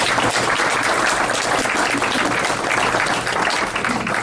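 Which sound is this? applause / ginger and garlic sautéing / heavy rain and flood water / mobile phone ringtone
applause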